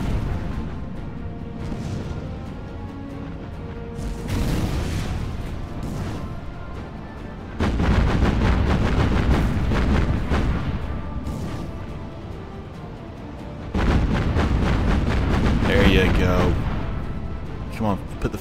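Warship guns in Battlestations: Pacific fire salvos as a series of heavy booming blasts in several bursts, each a dense rumbling roar that swells and then fades into a low background rumble.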